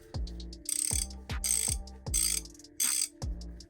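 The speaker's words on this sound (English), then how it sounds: "So let's just hear the difference in that." Quick bursts of mechanical clicking from an ICON 32 mm ratcheting combination wrench, about seven separate ratcheting strokes with short pauses between them, close and fairly loud with no talking.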